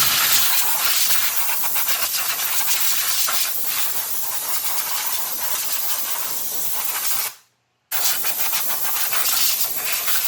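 Compressed air hisses steadily, blowing debris off the valve cover area of a 2007 Chevy Impala SS engine, loud and continuous with one brief pause before the rush of air resumes.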